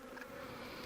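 Honey bees buzz around hives being split in the Australian bush, a faint, continuous hum of many insects at a steady level, ending in a small knock.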